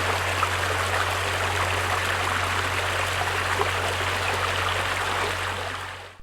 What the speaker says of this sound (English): Sometimes the water was moving faster in a narrow stream.